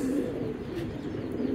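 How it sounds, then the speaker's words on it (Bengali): Female pigeons coo steadily in low, throaty tones, close by and fairly loud, with no talk over them. "দুইটাই মাদি কবুতর।"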